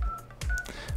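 Dual-tone keypad beeps from a Sony Xperia XA2 as a secret service code is typed in: three short, distinct tones in quick succession, clear and close with no talk.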